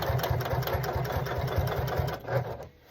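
A sewing machine runs in a fast, even rhythmic chatter of needle strokes, stitching a thick Carhartt hunting coat close by, slowing and stopping at the end.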